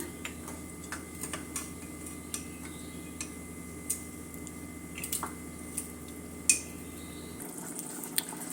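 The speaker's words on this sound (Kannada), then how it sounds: "ನಾನು ಇನ್ನು ಸ್ವಲ್ಪ ನೀರು ಸೇರಿಸಿ ಕುದಿಯೋದಕ್ಕೆ ಇಟ್ಟಿದ್ದೀನಿ" Mandya-style guddebadu saaru, a mutton curry topped up with water, boiling in a pot: soft, irregular bubbling pops and ticks over a steady low hiss, fairly quiet, with no talking.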